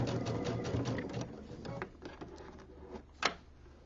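A sewing machine zigzag stitches around the binding of a jelly roll rug, running in a steady mechanical chatter at first, then slowing into sparser, uneven taps and a sharp knock near the end.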